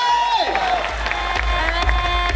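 A standing ovation from the audience at a distributor training programme, loud crowd clapping mixed with cheers and whoops, a voice singing or speaking over it and music underneath.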